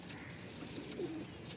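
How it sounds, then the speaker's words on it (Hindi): A golden pigeon coos softly in a single brief, low call, heard alone and fairly faint. "ये जो गोल्डन है ना कबूतर"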